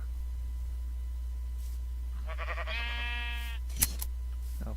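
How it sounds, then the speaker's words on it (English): Sheep in the game Minecraft bleat in a short wavering call near the middle, faint over a low steady hum, followed by a brief click. "Oh, thank goodness for wild sheep."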